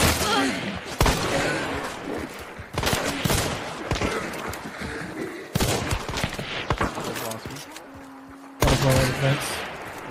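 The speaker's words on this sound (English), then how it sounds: "Thank you for the covering fire." Video game gunfire comes in several loud bursts of rapid shots broken by short pauses, with brief talk in between.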